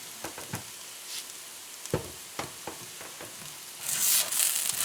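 Fried rice seasoned with five spice, pepper and salt is stirred in a pan: a soft sizzle runs under repeated scraping strokes of a spatula, with a louder, brighter burst of frying hiss near the end.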